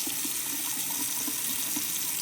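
Cold tap water runs steadily from a faucet onto a Scrub Daddy sponge, a constant close hiss with no talking.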